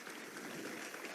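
Audience applause from a crowd, a short, even burst of clapping with no pauses and no voices over it.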